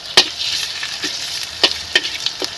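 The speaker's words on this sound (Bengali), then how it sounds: "এই তেলে কিছু পেঁয়াজ কুচি দিয়ে লাল লাল করে ভেজে নেব" Chopped onions frying in oil with ginger, garlic and cumin paste, being stirred in a pan: a steady close sizzle with several sharp scraping stir strokes spaced through it, no voices.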